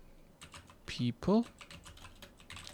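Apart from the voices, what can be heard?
typing on a computer keyboard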